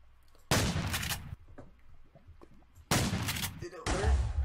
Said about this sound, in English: I'm just using a shotgun for you